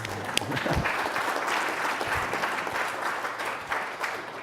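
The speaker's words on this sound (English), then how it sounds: "You should clap for that." An audience applauds after a talk on campaign polling, a dense, sustained clapping that fills the room for several seconds with no speech over it.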